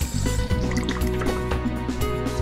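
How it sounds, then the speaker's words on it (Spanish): Warm water pours steadily into a bucket in a laundry room, a continuous close filling and splashing sound with small drips. "En la lavandería agregamos 1/4 de agua tibia al balde"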